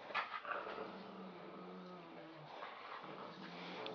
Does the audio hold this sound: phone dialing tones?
no